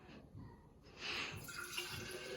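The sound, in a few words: coffee pouring into a container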